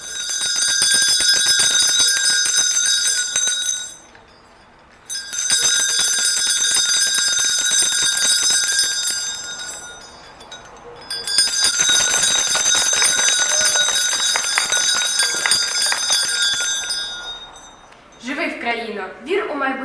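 A school bell rings loud and continuous in three long bursts for the first day of the school year at a lyceum in Kryvyi Rih, with brief pauses between rings and a voice starting at the end.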